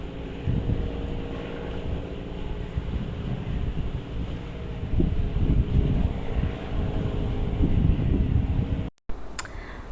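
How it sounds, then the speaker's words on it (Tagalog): Strong seaside wind buffets the microphone on a cable car ride over the sea at Mokpo, a loud, continuous rumbling roar with gusty surges and a brief dropout near the end. "Ang hangin dito, sobra."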